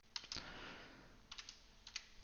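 Keystrokes on a computer keyboard while a JavaScript script tag is typed: two quick clusters of light, close clicks, one at the start and another near the end, over a faint steady room hiss.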